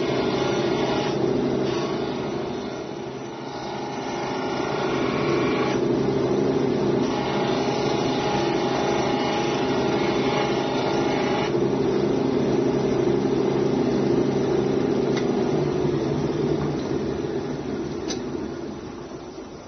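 A jade pendant pressed against a spinning foam polishing wheel gives a steady mechanical whir and hum with a few faint scraping shifts, continuous and close.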